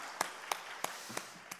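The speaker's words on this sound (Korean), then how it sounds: "우리 하나님께 영광의 박수 올립시다" Five sharp, evenly spaced claps ring out one after another from a congregation at a Korean prayer retreat service, fairly distinct and not very loud, with no talking over them.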